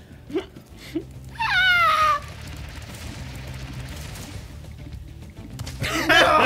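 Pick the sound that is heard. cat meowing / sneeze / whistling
cat meowing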